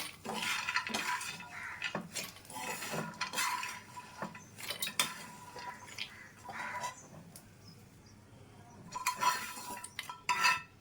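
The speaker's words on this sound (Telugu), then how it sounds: "ఇప్పుడు ఈ పప్పు అంతా మనం మిక్సీ జార్లోకి తీసేసుకుందాము." Roasted peanuts scraped and tipped from a pan into a mixer jar, a close series of metallic clinks, spoon scrapes and rattles coming in irregular bursts with quieter gaps between, without talk.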